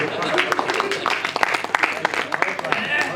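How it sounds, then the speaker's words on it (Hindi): An audience at a Hindi poetry recital claps in a loose burst of applause. Someone speaks over the clapping. "अपने लिए ताली बजाइए, अपने लिए बजाइए।"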